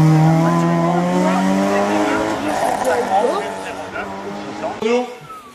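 A race car, number 173, climbs the hill at the 2022 Hérenguerville-Quettreville hill climb, its engine roaring loud and close with rising and falling revs as it passes, then fading, under a commentator's voice.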